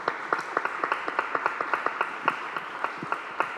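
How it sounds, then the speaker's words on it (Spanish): Welcome applause for an author at a literary festival colloquy in Antequera, a steady audience round of clapping with sharp individual claps standing out, continuous for several seconds. "quiero un aplauso de bienvenida para Raúl"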